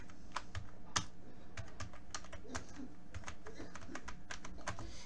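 Someone typing on a computer keyboard, close rapid irregular key clicks with occasional louder taps running steadily throughout, with no voices.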